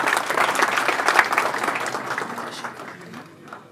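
Audience applause at a Turkish panel event on East Turkestan, dense steady clapping that starts full and slowly fades, with no voices over it.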